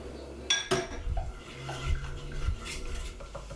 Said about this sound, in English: Add the nacho spice and stir.